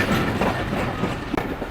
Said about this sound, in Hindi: यहाँ पे रेल ट्रेन रुक रही है गुजर खान पे।